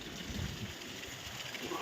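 Steady rain falls across an open farm field where kinnow saplings grow, a soft, even hiss of close drops with no voices over it.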